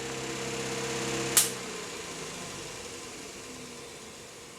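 An electric fan powered through a Variac, cleaned with solvent to remove old oils, is switched off with a click and its motor hum and whir fade steadily as the blades coast down over several seconds.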